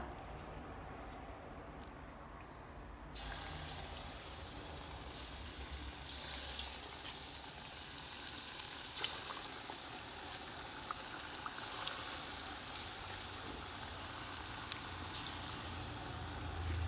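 Tea-time snack pieces drop into hot oil and fry with a steady, loud, hissing sizzle that starts abruptly and continues throughout, with a few brief crackling pops and no talk.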